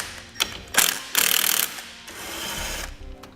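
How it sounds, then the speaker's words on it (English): A ratchet with a 13mm socket clicks in several quick bursts while loosening a nut on a 2017 Jeep Renegade, close and crisp, with short pauses between strokes. "We'll now disconnect the nut here using a 13mm socket."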